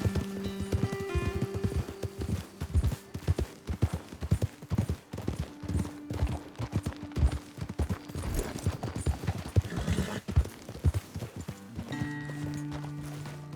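Horse hooves in Red Dead Redemption 2 clip-clop steadily at a brisk trot, close and continuous for several seconds, with faint background tones.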